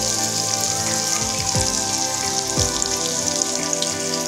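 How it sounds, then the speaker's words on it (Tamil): Pumpkin pieces and onions sautéing with salt in a hot pan, giving a steady close crackling sizzle with scattered pops throughout and no voices. "இப்போ இது கூட உப்பு சேர்த்து நல்லா வதக்கி விடுங்க."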